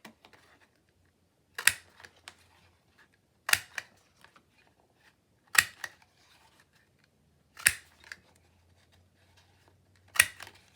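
A paper punch cuts through dry book pages, five sharp, crisp clicks spaced about two seconds apart with near silence between them, close and fairly loud.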